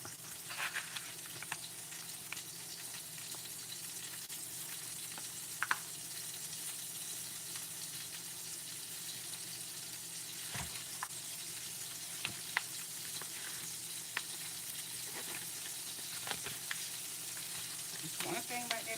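Beef bacon frying in a pan, a soft steady sizzle with occasional light clicks and scrapes, fairly quiet throughout with no talking.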